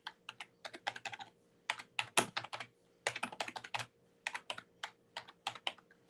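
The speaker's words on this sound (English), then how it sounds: "I'm typing with one hand because I'm muting my microphone with the other" Irregular bursts of one-handed typing on a computer keyboard, with clusters of sharp, close key clicks separated by short pauses, heard alone without any talking.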